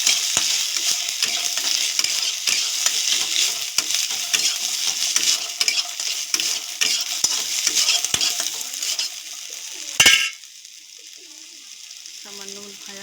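Green peas frying and being stirred in a pan for vegetable khichuri, a steady close sizzle with frequent scraping stirs and clinks, then a sharp clatter near the end before the frying drops to a quieter hiss.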